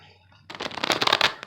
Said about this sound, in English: I am going to shuffle my cards